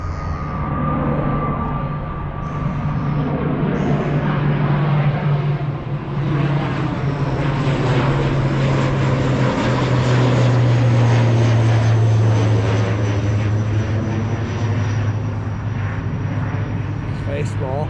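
A propeller plane's engine drones loudly and steadily, rising in pitch as it takes off, with people talking nearby over the noise.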